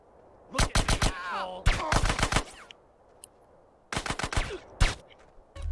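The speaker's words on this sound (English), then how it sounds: "I got all these people shooting at me" Enemy gunfire in GTA San Andreas comes in several sharp automatic bursts of closely spaced shots, loud and punchy, separated by short quiet pauses, with no talking.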